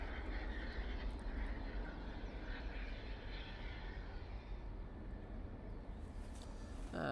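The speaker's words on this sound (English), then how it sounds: "It just sounded like the this EasyJet's just started up" An easyJet airliner's engines rumble into life at Manchester Airport, a distant, steady low roar and whine that holds evenly throughout with no talk.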